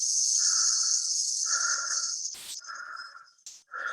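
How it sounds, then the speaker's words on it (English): Breathing inside a spacesuit and a steady hiss of compressed air during a spacewalk in the film 2001, with slow, regular rasping breaths over the continuous hiss and two brief sharp bursts of air. "The only elements we hear are breathing and compressed air."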